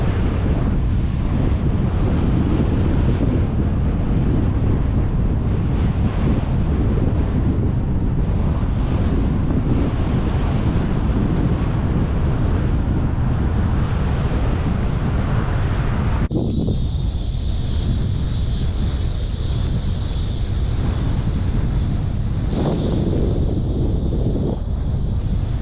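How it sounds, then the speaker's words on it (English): A strong headwind roars over a cyclist's microphone on a rural Texas road, a loud continuous buffeting rumble that eases partway through into lighter wind noise, with no talking. "we got a headwind, little crosswind component,"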